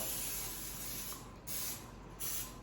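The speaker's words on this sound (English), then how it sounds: "I'm going to use a little pan spray, cooking spray." Cooking spray hisses from an aerosol can onto a baking dish for pumpkin bars, a steady close spray broken by two brief pauses, with no voices.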